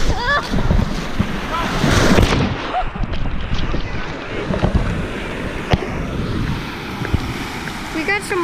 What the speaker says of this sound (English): We go big wave, kind of.